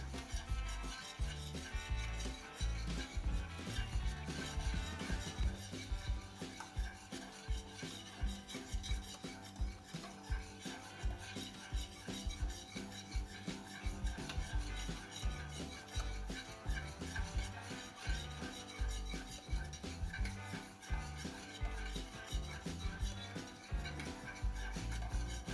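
Passion fruit pie filling stirred in a pot on the stove as it nears a boil, a steady, continuous rubbing and scraping of a utensil against the pan that carries on without pause, close and moderately loud.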